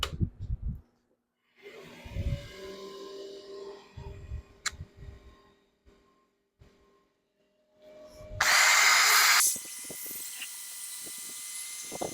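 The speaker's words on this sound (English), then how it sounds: "we'll go ahead and start sanding this with 220 with the drill" A handheld power drill whirs in short bursts between quiet gaps, then a loud, sustained high-pitched sanding run near the end as the drill sands a turned wood ring holder with 220-grit sandpaper.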